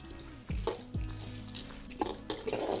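Crushed garlic and about a dozen curry leaves hitting hot oil for a thick poha chivda, sharp sizzling bursts as they drop in, then a steady crackle with faint stirring clinks.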